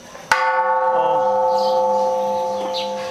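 A Buddhist temple bell in Chiang Mai struck once, a sharp strike followed by a long ringing, shimmering decay with many sustained tones, close and loud, with faint voices and birds around it.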